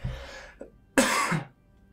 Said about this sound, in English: Excuse me while I just cough.